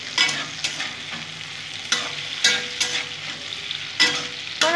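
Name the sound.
stirring potatoes frying in a pan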